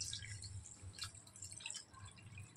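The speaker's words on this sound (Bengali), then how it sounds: "এবার জল দিয়ে দিই।" Water is poured into spiced mashed potato for fuchka filling, a soft, faint trickle and drip over a low background hum.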